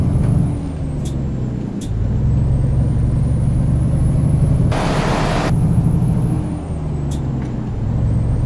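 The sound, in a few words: truck grinding gears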